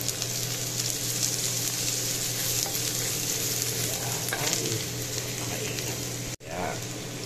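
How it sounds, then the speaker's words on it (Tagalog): Garlic sizzling and frying in a pan for mangbeans, a steady close crackle with occasional stirring, a brief dropout near the end. "Medyo kakaramelize lang po natin ng konti at ibabraw natin ng konti ang bawang."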